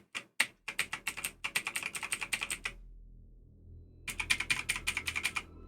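Rapid keystrokes on a computer keyboard come in two bursts of close, crisp clicks separated by a short quiet pause, with no talking.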